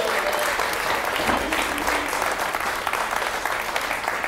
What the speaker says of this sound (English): Could you clap a bit quicker?